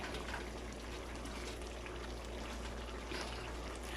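Water pours steadily into a pan of onions for a spicy seafood boil sauce, making a faint, continuous trickling stream over a low hum.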